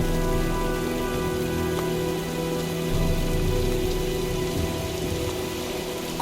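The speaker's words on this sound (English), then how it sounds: "looks like a storm's coming" Heavy storm rain pours steadily on surfaces in the Heavy Rain video game, a dense, continuous hiss with scattered drops and no talk.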